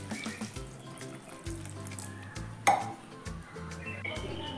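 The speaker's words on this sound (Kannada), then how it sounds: "ನೀರು ಹಾಕಬೇಕು," Water poured into ground masala for an egg green masala curry, soft splashing and trickling with light clinks of a vessel, faint and intermittent, no talk.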